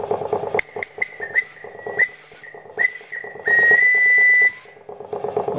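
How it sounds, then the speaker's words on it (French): The whistle on a Gems Suzor steam engine blows in a series of short shrill toots, then one long steady blast, loud and close with a faint steam hiss. Someone speaks briefly before and after it. "on a le sifflet."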